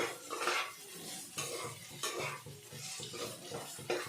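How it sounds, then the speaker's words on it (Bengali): Fried potatoes are stirred into spice masala in a pan, a spoon scraping and clinking against the metal over a low sizzle, close and continuous. "এবার আমি এর মধ্যে ভেজে রাখা আলু দিয়ে দেবো। আলু দিয়ে একটু নাড়াচাড়া করে"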